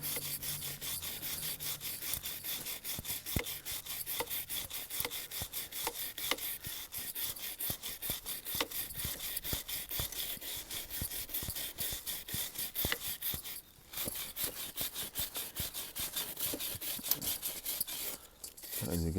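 A brush scrubs grime off a motorcycle chain in quick, rhythmic back-and-forth strokes, close and fairly loud, with a brief pause partway through.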